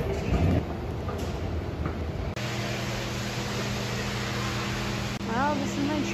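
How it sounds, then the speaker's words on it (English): A low, steady electric hum as an airport air train pulls away, over a constant background hiss, with a short voice near the end. "Well, this is my train. It's departing."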